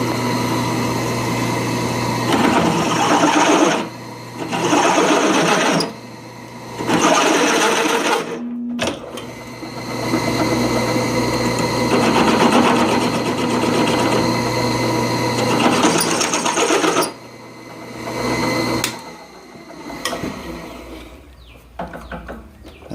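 A drill press in low gear bores slowly through hard steel forklift chain links with a 9/16 bit, its loud whirring hum running steadily with several brief stops and restarts.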